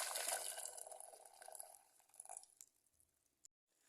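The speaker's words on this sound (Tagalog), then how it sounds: "Kumulo na ang tubig." Water in a pot bubbles and hisses at a rolling boil, ready for squash to be added. The bubbling is loud at first, then fades into brief faint gurgles and a short drip.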